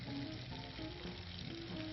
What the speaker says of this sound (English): And we'll get it sizzling in there.